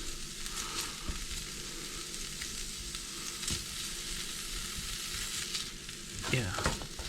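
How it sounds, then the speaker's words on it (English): Bacon and potatoes sizzle steadily in a hot pan while a utensil scrapes and stirs through them, a close, continuous frying hiss with occasional clinks and no talking. "I'm going to go ahead and just stir this and cook it until this part's done"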